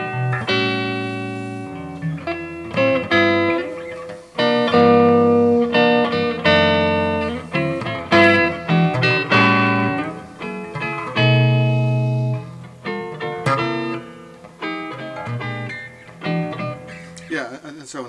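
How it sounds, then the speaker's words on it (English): Jazz chords strummed on an electric guitar through a Fender Mustang II amp with a clean tone and spring reverb, sounding as a run of sustained, ringing chords that change every second or so, close and fairly loud. "We're going to start playing some jazz chords"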